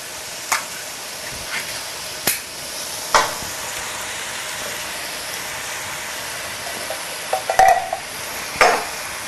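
Tomatoes being stirred into softened, frying vegetables for a low-protein vegetable bolognaise, giving a steady sizzle with occasional sharp spoon scrapes and clinks against the pan.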